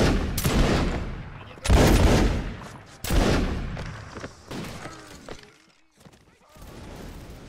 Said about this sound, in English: Company, fire at will.